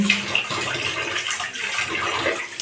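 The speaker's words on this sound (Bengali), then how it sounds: "ওদিকে বৌদি তেলাপিয়া মাছ ধুয়ে রেডি করছে" Running water splashes steadily as tilapia fish are washed in a home kitchen, a continuous near wash of water with no talk.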